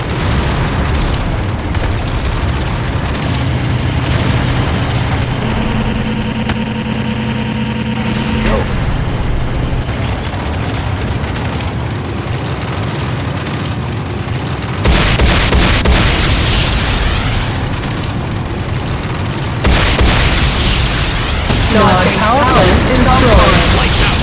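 Deep rumbling explosions as the Hand of Nod structure is destroyed in C&C Renegade, heavy booming blasts layered over constant battle noise and mechanical hum, with louder bursts toward the end and an announcer voice in places.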